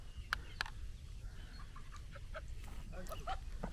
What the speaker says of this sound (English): I'm about to let the chickens out of the coop.